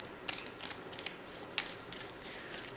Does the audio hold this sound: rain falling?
no